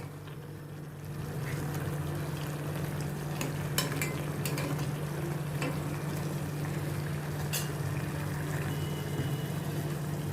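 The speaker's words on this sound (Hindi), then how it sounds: "इसको थोड़ा अभी मैं सब्ज़ी को थोड़ा ड्राई करूँगी। गैस का फ्लेम मैंने अभी ये हाई रखा है" Vegetables with coriander stir-frying in a pan over a high gas flame, a steady close sizzle and hiss with occasional sharp clicks of a utensil scraping and stirring, continuous throughout without talk.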